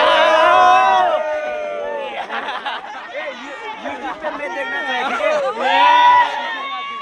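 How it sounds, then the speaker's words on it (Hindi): A large crowd of students chatters together in a dense, continuous babble with scattered chuckles, voices overlapping near and far at a steady, fairly loud level. "कितना ज़्यादा भीड़ है यार"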